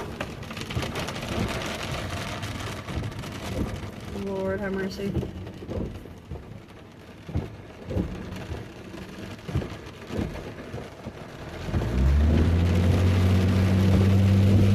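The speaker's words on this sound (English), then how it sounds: "I know the rain is really loud." Heavy rain and hail pour steadily with rumbling thunder, while a person speaks briefly; a deep engine-like drone swells near the end.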